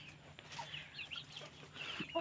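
Hmong black chickens cluck as they are fed pesticide-free garden vegetables, giving a scatter of short, fairly faint calls over a low steady hum.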